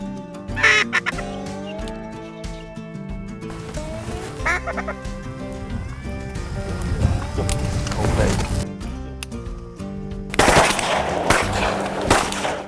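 Shotguns fire in sharp bursts during a teal duck hunt on Catahoula Lake, with duck quacks and people talking across the scene.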